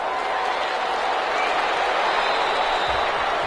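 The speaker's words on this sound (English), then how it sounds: "How about some applause for the defense there?" A stadium crowd in an American football video game cheers and applauds the defense after a stop, a steady dense roar of clapping and voices that holds loud for the whole stretch.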